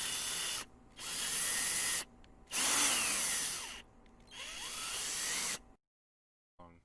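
Power drill recorded as a sample, running in four long loud bursts separated by short pauses, with whining pitch rises and falls, then silence with a brief faint sound at the end.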